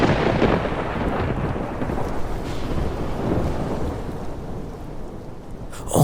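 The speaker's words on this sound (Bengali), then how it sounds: "সাথে মেঘের গর্জন।" A thunderstorm with heavy rain gives a loud, steady wash of rain, and deep low thunder rumbles and rolls beneath it all the way through, with gusty noise rising at the close.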